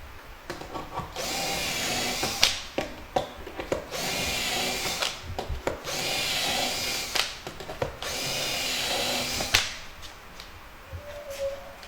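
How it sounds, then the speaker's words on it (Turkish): A power drill bores holes into a wood panel while a Minifix and shelf-pin jig is used, in four separate whining bursts of drilling with clicks and handling knocks between them, close and clear. "Dört tane de buraya deliyoruz."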